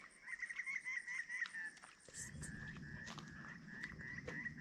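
Outdoor bird calls and honking cries ring out over flooded land with a soft low rumble, several birds calling repeatedly at a moderate distance.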